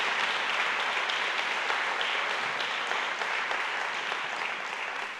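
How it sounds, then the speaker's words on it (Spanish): Congregation in a church service giving a loud, sustained round of applause, dense continuous clapping from many people that tapers slightly at the end. "Denle un fuerte pero fuerte aplauso a Jesús."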